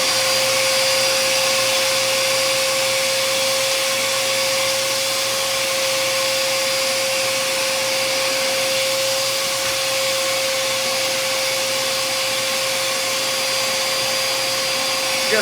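A shop vacuum runs through the original Dustopper dust separator bucket, a loud steady whine and roar with a fixed tone, holding continuous and close for the whole stretch without pause.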